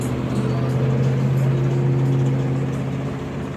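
Antique General Motors car of the brass era on a Berks County tour, its exhaust droning in a steady low rumble, loud and close, holding even for a few seconds before easing slightly.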